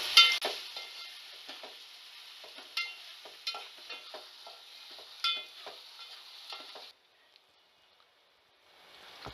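Onion and tomato with salt fry in a pan, a soft hiss broken by repeated spatula scrapes and stirring clicks, then the sound cuts to near silence before faintly returning.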